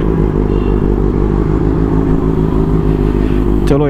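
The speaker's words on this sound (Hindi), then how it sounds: "सो भाई this is Honda CBR 650F।" A Honda CBR 650F motorcycle is ridden on the road, its engine giving a loud, steady drone and rumble that rises briefly near the end.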